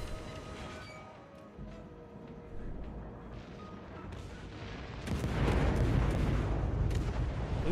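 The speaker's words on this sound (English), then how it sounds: "Oh no, he's shooting at me." Naval gunfire pounds a ship in World of Warships, starting as a distant rumble that swells into a loud, heavy barrage of impacts near the end.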